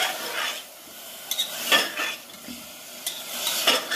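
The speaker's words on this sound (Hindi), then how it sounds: "ये उस वक्त तक भूनेंगे जब तक कि इसकी पूरी महक नहीं ख़त्म हो जाती है लहसुन की" Garlic fries softly in a pan under a low sizzle, while a utensil stirs and scrapes the pan every so often.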